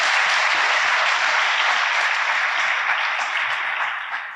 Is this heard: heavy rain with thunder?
no